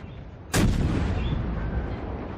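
A naval ship's heavy guns fire in the World of Warships video game, one sudden loud booming salvo followed by a long rumbling roar that slowly fades.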